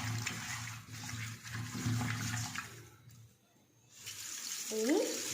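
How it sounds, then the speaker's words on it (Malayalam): Water running and pouring over salted fish in a bowl during washing, a close continuous gushing splash that fades briefly midway and then resumes strongly. "ഇനി കുറച്ച് വെള്ളം ഒഴിച്ചിട്ട് ആ സോൾട്ടിനെയും അഴുക്കിനൊക്കെ ഒന്ന് റിലീസ് ചെയ്തെടുക്കാം."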